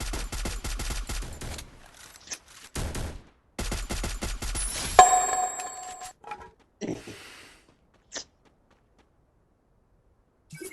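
Gunfire in the video game Free Fire plays as rapid automatic bursts with short pauses between them, followed by a sharp impact and scattered fainter shots and thuds before it falls quiet.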